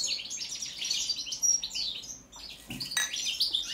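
A Balkan European goldfinch (Carduelis carduelis balcanica) sings close by: bright, rapid twittering phrases with high trills and chirps, broken by short pauses and a few fainter rustling sounds.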